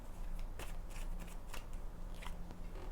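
Tarot cards being shuffled for a reading, close up, with a run of quick crisp riffling and sliding bursts over a steady background hiss.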